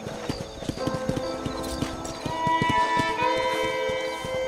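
Horse hooves clip-clopping in Red Dead Redemption, a steady run of sharp close hoof strikes with an occasional whinny and ambient game music underneath.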